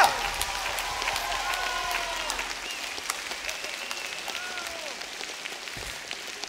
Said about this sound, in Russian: Дамы и господа, ваши аплодисменты нашего вокалиста.